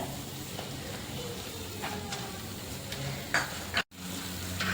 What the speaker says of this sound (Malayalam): ഇനി നമുക്ക് ഇതിലേക്ക് മസാലപ്പൊടികൾ ചേർത്ത് കൊടുക്കാം